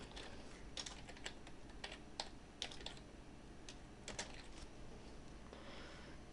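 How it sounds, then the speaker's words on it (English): Keys tapped on a computer keyboard, a quiet, irregular run of light clicks close by in an otherwise hushed room. "gonna wanna just type something in"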